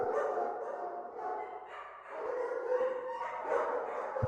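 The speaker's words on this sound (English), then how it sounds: "sled dogs in here. They sort of bark as you enter a little bit." Sled dogs bark and yip in a kennel as a fantasy tabletop game sound effect, a steady chorus of several dogs that swells and fades over a few seconds with no talking.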